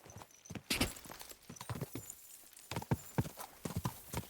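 Horse hooves clip-clop in the video game Kingdom Come: Deliverance 2, a quick irregular run of hoof strikes on hard ground, close and fairly faint, heard without talking.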